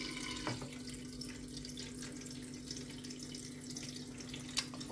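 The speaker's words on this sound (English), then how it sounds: "Any slight movement will cause the water to flow out." Water trickles and drips from a Gex cat water fountain, a faint steady flow with a low pump hum underneath and a couple of brief louder drips or splashes.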